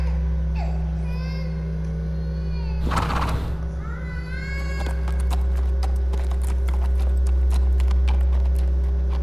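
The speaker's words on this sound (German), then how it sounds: "Da ist ein Pferd durch den Flur." Rapid hoof clip-clops on a hard floor grow louder and steadier, with a short horse whinny and a burst of noise partway through; a horse walking down a hallway in The Walking Dead: The Final Season video game.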